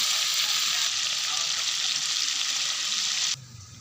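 Pieces of katla fish fry in oil in a pan, giving a loud, even sizzle that holds steady and then drops away abruptly near the end, leaving a quieter background.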